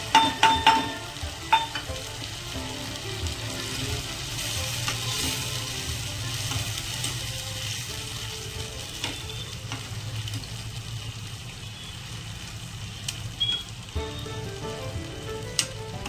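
Masoor lentils fry in a pan with a continuous close sizzle, several clattering stirs at the start and scattered light scrapes and taps later, with no talk.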